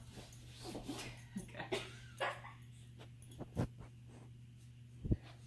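A dog whimpers and yips in short bursts, with a person speaking briefly and a steady low hum underneath.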